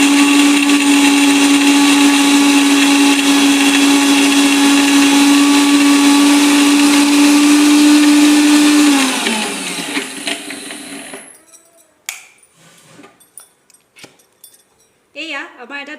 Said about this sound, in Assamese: বাদামখিনি ভালদৰে মিক্সিং কৰি ল'ম মিক্সিত।